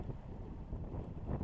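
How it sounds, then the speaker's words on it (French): Steady wind buffeting the microphone on open sea while sailing along a coast, a continuous low rushing roar with gentle swells in level, no voices. "Il y a quand même un peu de vent."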